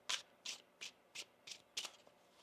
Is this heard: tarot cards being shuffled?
yes